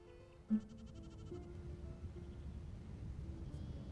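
A single faint sheep bleat rises briefly over low outdoor rumble, followed by distant quiet background noise on a Norwegian mountain pasture.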